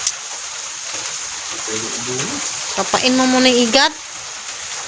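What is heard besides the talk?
heavy rain falling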